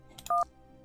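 Two quick telephone keypad tones sound in succession, clear and steady, each a short dual-pitch beep, with a faint hiss around them and no one talking.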